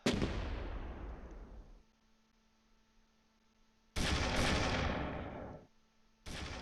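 Rifle gunfire in the World War II strategy game Close Combat III: two loud, booming shots with long decaying tails, spaced a few seconds apart, then a third beginning at the end, with no voices.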